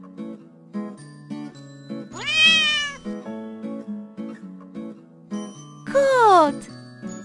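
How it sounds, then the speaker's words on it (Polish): A cat meows twice in a children's animal-sounds cartoon, each call a rising and falling cry, loud and close, over a light tinkling tune with steady plucked notes. "Kot!"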